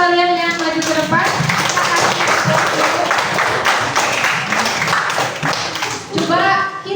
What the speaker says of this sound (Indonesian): Coba kasih tepuk tangan untuk kalian yang maju ke depan.